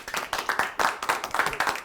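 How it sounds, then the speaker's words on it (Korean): Short burst of hand clapping from a small group at a workplace meeting, with rhythmic claps repeating steadily at moderate loudness and nearby, with no talk over it. "이거는 진짜 박수 한번 주세요"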